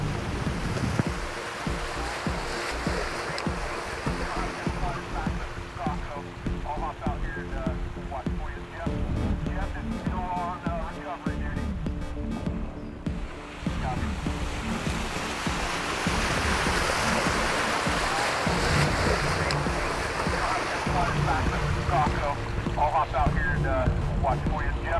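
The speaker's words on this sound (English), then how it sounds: "We are crossing water after water after water." Overland vehicles crossing one river ford after another on a remote South American route, with steady loud water rushing and splashing around them and a voice talking over the noise.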